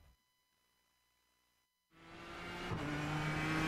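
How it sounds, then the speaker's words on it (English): A GSRC 4GT race car from iRacing starting a lap of the Montreal circuit: near-silence, then the engine roars in and builds steadily louder and higher as the car accelerates, heard alone. "we've got Taylor Burris on the GSRC 4GT, so let's do a lap around Montreal"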